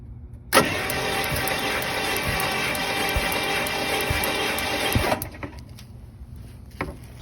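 A 1955 Buick Fireball V8 cranks over for about five seconds in one steady, loud, buzzing run of the starter, then cuts off, leaving faint handling noises. No voices.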